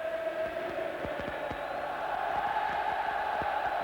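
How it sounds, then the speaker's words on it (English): A football stadium crowd at an Italian Serie A match between Inter and Bologna roars in a steady, distant wash of cheering and chanting that holds evenly from start to finish. "there's a better response from the crowd now"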